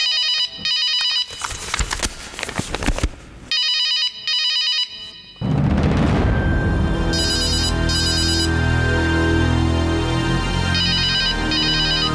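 A telephone rings loudly and close in repeated electronic bursts, first over a quiet room and then under swelling dramatic music, with no talk.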